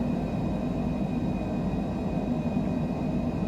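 Steady, even engine drone of a Longitude business jet climbing in a flight simulator, continuous and unbroken with no voices.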